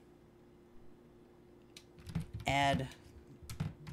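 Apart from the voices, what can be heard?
typing on a computer keyboard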